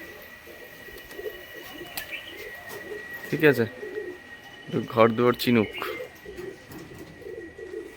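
Young pigeons let out outdoors give a few short bursts of soft, throaty cooing, close by, while a person talks nearby.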